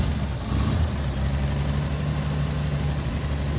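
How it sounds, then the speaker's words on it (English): A 1933 Chevy Sedan engine runs close by at a steady low rumble, with a slight rise in revs near the start before settling into an even idle, no voices. "If I get in and rev it up a little."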